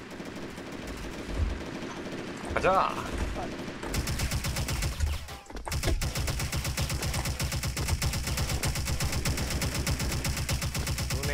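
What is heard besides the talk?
gunfire in video game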